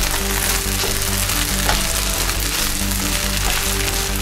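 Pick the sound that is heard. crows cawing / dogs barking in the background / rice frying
rice frying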